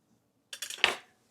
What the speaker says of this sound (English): I am going to use the pastry cutter, and I am going to kind of mix this flour together a little bit